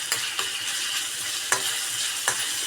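Browned onion with ginger garlic paste sautés in a pan with a steady hiss, and three or four crisp spatula scrapes land at uneven intervals, close by and without speech.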